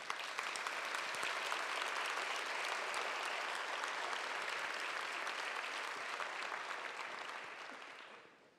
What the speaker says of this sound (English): please, a big round of applause for the Café Joyeux.